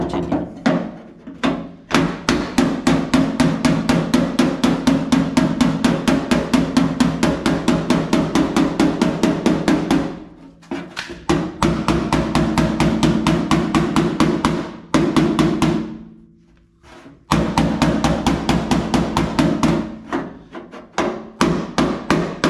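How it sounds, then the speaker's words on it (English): A hammer pounds a 1964 Chevrolet Impala fender being reshaped, loud rapid blows in fast regular bursts, several long runs separated by brief pauses, close and dominant. "Get the hammer."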